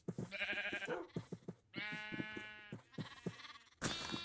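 Several sheep in Minecraft bleat one after another, close and fairly loud, their wavering, harmonic-rich calls separated by short gaps, with a few soft footstep-like clicks and no talking.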